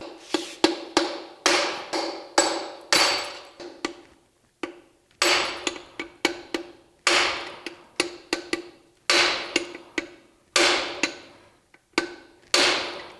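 Hammer and chisel strike a Buick Nailhead engine block in repeated bursts of sharp metallic blows, close and loud, with short pauses between volleys.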